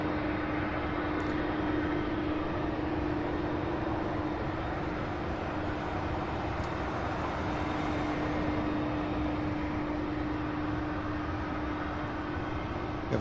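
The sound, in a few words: UPS aircraft taking off at airport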